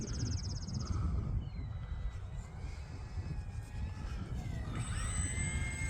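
An E-flite UMX Turbo Timber Evolution small electric RC plane whines faintly overhead in gusty wind, its thin motor tone rising and falling against heavy wind rumble on the microphone.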